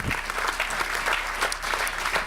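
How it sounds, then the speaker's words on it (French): Steady audience applause at a French finance and investment commission session, a dense patter of many hands clapping continuously for a couple of seconds, fairly loud with no voices standing out. "je crois qu'on peut l'applaudir"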